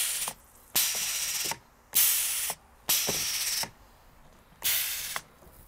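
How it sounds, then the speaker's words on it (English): A DIY pneumatic cylinder made from PVC plastic, driven by a solenoid valve, fires five sharp bursts of hissing air, each opening with a click and lasting about half a second, separated by short quiet gaps. "now I'm gonna take and hook up to the solenoid valve"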